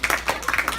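An audience at a school teach-in event on programming claps, a brief burst of uneven individual hand claps at close range, loud and sparse rather than a full ovation.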